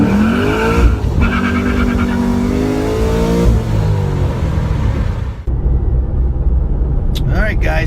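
A 5th gen Camaro fitted with an ECS big blower cam and NOWEEDS diverters revs loudly and close, its engine note climbing and falling in repeated pulls before a sudden drop, with a brief higher whine near the end.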